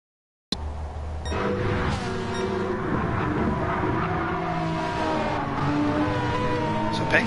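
A Mercedes GT3 race car at Monza during a multi-class endurance race roars steadily past for several seconds, its engine loud and sustained with a brief rising rev, and a commentator's voice runs over it throughout.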